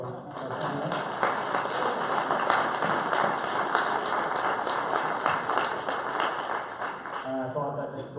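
Dense, steady applause from a crowd at an economic forum's closing remarks fills the whole stretch, with many hands clapping at once and a faint voice near the end.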